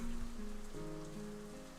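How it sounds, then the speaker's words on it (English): Steady rain pouring during a storm in the game Katawa Shoujo, a constant hiss of drops on surfaces under a soft held musical tone, moderately quiet. "how would they not hear the rain in the storm?"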